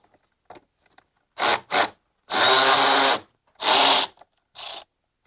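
A power tool on a BMW E90 with the N54 engine, backing out a 13 mm valve cover bolt; several short loud mechanical whirring bursts separated by pauses, close up, with no talking.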